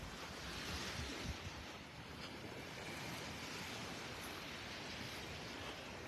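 Surf washes steadily onto a beach at Delnor-Wiggins in Naples, a continuous soft roar of breaking waves mixed with wind buffeting the microphone, with no voices.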